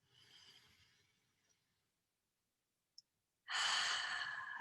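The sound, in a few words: deep breath during meditation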